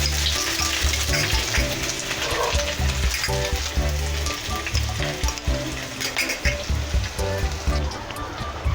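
Chopped onion fries in hot oil for a prawn curry with taro, giving a loud, steady sizzle and crackle that runs without a break and is occasionally stirred.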